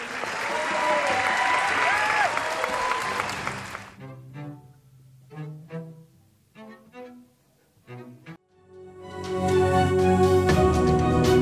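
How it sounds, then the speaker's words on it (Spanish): Audience at a youth symphony orchestra concert applauding conductor Pilo Galindo, a loud burst of clapping that fades out, followed by scattered sparse claps and then music rising at the end. "despidamos con un aplauso al maestro Pilo Galindo"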